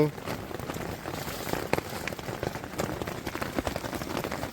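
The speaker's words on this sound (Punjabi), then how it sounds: "ਸਨੋ ਤੇ ਗੜਿਆਂ ਦਾ ਮਿਕਸਚਰ ਹੈ" Mixed snow and hail falling during a mountain trek on the Sar Pass route, a steady dense patter of pellets striking surfaces close by, with a few sharper isolated ticks throughout.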